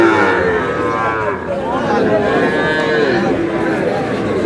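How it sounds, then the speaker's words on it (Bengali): A young Sahiwal bull calf bellows repeatedly at a busy cattle market in Pabna, several close, loud moos running together over a low background of crowd chatter. "শাহিওয়ালের ষাঁড়।"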